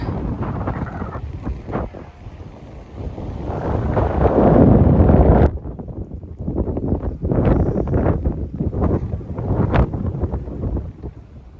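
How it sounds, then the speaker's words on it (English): Strong wind on a hillside in Southern Italy buffets the microphone in loud rumbling gusts, easing briefly before picking up again. "It's a little windy up here."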